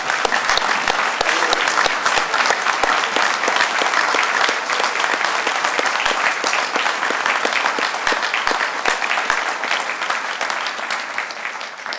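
Sustained applause from an audience honoring recipients at a Tennessee state awards ceremony, steady dense clapping that holds loud throughout and tapers slightly at the end.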